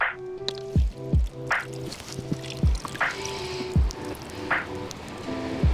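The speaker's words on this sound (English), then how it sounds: "Let's pour some fixer on and see what happens." Photographic fixer is poured onto a wet collodion plate at the beach, making a run of small close drips and splashes with liquid trickling between them.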